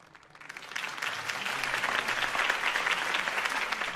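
A crowd's applause in Batman: The Telltale Series swells in from quiet and holds as steady, dense clapping throughout.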